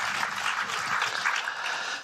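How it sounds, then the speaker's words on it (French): A French studio audience at a talk show on the Linky meter applauds a guest; a dense, steady burst of clapping at even loudness, with faint low murmurs beneath and no clear speech. "Je vous demande de l'applaudir, messieurs, dames."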